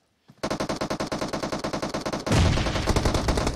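Rapid bursts of automatic gunfire crackle in a competitive first-person shooter scrim match, a steady stuttering rhythm of close shots that swells into a denser, louder barrage near the end, with no talking.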